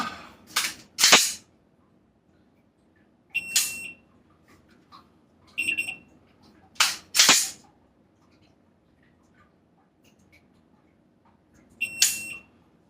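A high electronic shot timer beep sounds, then sharp, loud gunshots follow in separate bursts with pauses between them, with no talking.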